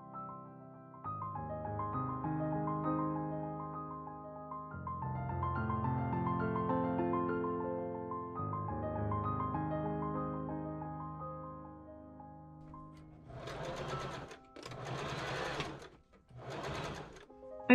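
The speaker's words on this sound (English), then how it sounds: "now I'm serging the elastic on the front edge of the cup" A serger stitches elastic onto the inner front edge of a fabric cup for a floral summer top: a long, steady mechanical whir, then three short, sharp bursts of rapid stitching near the end.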